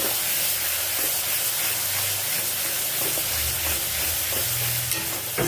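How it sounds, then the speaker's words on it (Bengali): Spices fry in a pan for a chicken curry, a dense continuous sizzle with hissing spatter and occasional stirring scrapes and low clunks, close and steady throughout. "এবার এর মধ্যে মশলাটা দিয়ে দিলাম, দিয়ে খুব সুন্দর করে নেড়ে দিচ্ছি"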